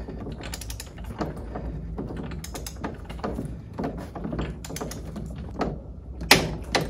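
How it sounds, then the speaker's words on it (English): Torque wrench clicking at set torque on a Mercruiser lower unit drive shaft and pinion gear, heard as a series of close sharp ratcheting clicks and metallic taps with mechanical clatter, no talking. "we will know it's at 65 when the torque wrench clicks"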